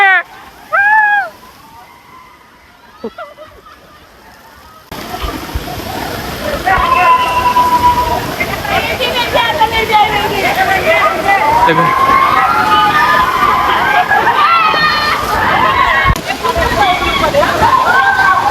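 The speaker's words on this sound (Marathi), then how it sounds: "बादली पडली" At the Wet n Joy water park in Lonavala, a giant ride bucket tips over and dumps its load. A few seconds of voices and shrieks give way to a loud, sustained roar of cascading, splashing water.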